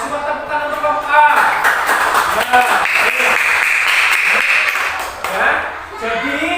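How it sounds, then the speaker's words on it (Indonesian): A classroom of students gives a short burst of clapping for a group presenting in class, the applause swelling after a moment and then fading, with a teacher's voice heard before and around it. "Tepukan untuk kelompok A."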